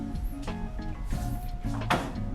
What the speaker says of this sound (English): You'll be welcomed by a single swivel door.